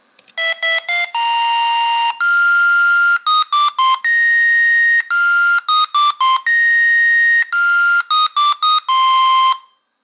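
A small ODROID GO handheld's built-in speaker blares a rapid series of loud electronic beeps and tones at changing pitches, harsh and piercing, with short gaps between bursts and no voices.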